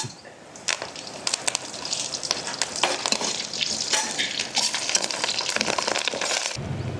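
Fig guggillu fries loudly in a pan as curry leaves go in, bursting into a dense crackling sizzle with sharp pops and scrapes that runs throughout, then drops suddenly near the end.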